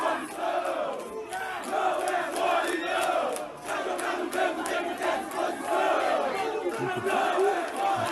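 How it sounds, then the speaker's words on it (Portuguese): Flamengo football supporters chant in protest against Gabigol and the club board at a match against Athletico Paranaense in Cariacica, a large crowd singing in rhythmic unison with pulsing, sustained voices from start to finish. "Contra o Atlético Paranaense em Cariacica, com protestos da torcida."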